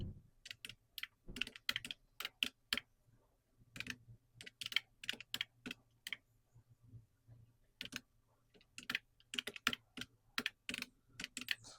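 Someone types student marks on a computer keyboard in quick bursts of crisp key clicks, separated by short pauses, close and fairly quiet.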